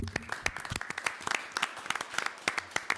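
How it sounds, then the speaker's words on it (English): Council meeting attendees give parents a round of applause, a modest scattering of distinct hand claps from a small room, uneven and close, lasting a few seconds. "we'd like to give the parents that are here supporting them a round of applause"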